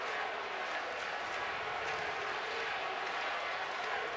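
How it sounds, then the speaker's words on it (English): Dense stadium crowd noise at a Mississippi State vs. Vanderbilt college baseball game, 2021 College World Series finals, steady cheering and applause filling the whole moment with no break. "Young and old cheering on State."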